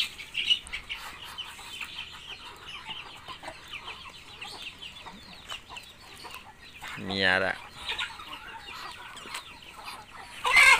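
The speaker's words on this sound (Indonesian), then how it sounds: "Ada ayam kampung." Indonesian village chickens cluck and chatter in a coop with irregular close calls, one loud drawn-out squawk midway and another burst at the end, while people talk nearby.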